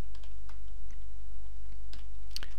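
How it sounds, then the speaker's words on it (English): Clicks and taps of a computer keyboard as someone types PHP code, sparse irregular keystrokes with a small burst near the end, close and fairly quiet with no talking. "I'm gonna keep on typing S"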